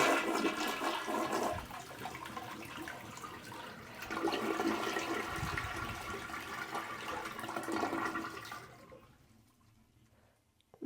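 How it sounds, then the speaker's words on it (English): A household toilet with its water supply shut off flushes once, a loud rushing gurgle of the tank draining into the bowl for several seconds, then fading into quiet without the usual refill hiss. "All right, now flushing."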